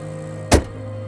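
A single heavy thud as the hood of a new V12 Rolls-Royce Phantom is shut, a short, solid slam over a steady low hum, close and loud.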